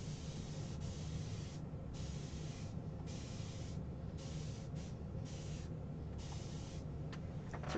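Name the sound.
spraying water onto a painting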